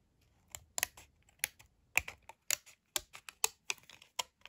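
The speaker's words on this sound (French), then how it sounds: "Donc là, je vais le faire au ciseau." Scissors snip through paper for an autumn-themed die-cut card, giving a quick uneven series of sharp, close clicks and cuts with no voices.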